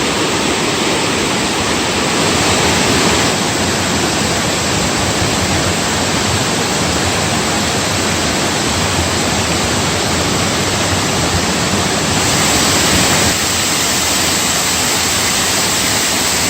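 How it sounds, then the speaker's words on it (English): A loud, steady roar of West Prong Hickey Fork Falls in Pisgah National Forest, running high, fills everything, a constant dense rush of falling water close up with no other sounds breaking through. "West Prong Hickey Fork Falls."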